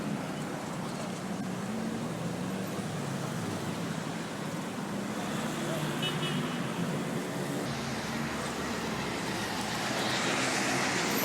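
Busy city traffic in the Dominican Republic rumbles and hisses continuously, vehicles whizzing past nearby in a dense, steady wash of road noise that swells slightly toward the end.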